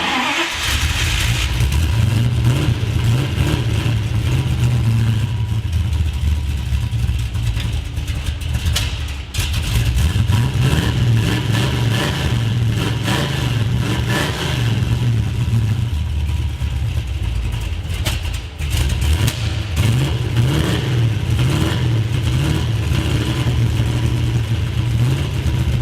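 A 1973 Plymouth Road Runner with a big-block V8 on a test drive, its engine droning loud and close with repeated rev swells and brief dips as the car accelerates, no talking.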